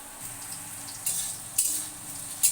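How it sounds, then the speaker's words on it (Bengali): Carrots and beans fry in a pan with a steady, soft sizzle, broken by a few brief louder hissing bursts as the vegetables are stirred, close up with no voices. "গাজর টাজর ভাজা হয়ে গেছে, গাজর বিন ভাজা হয়ে গেছে"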